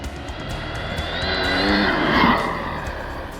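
An off-road RC car runs flat out at high speed, its motor whine rising and swelling to a peak near the middle before easing off, a continuous broadband rush with tyre noise, close and fairly loud.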